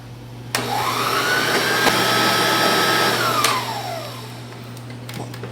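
An electric mixer whips chantilly cream with chocolate and gelatin, a loud steady whir that ramps up sharply, holds for a few seconds and then winds down, heard close with no talking.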